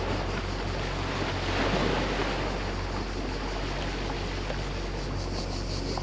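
Adriatic sea waves and swell washing over a swimmer, a steady loud roar of surf and rushing water with wind buffeting the microphone, swelling slightly partway through.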